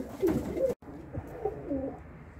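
Pigeons coo softly and repeatedly nearby in a small pigeon loft, low throaty burbling calls overlapping in the enclosed space.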